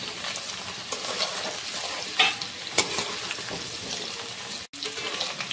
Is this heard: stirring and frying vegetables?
yes